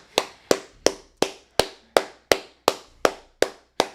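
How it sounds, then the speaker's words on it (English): A pair of hands claps about a dozen times at a steady, brisk rhythm. Each clap is sharp and close, with no voices under it. "Clap it up. Keep clapping it up."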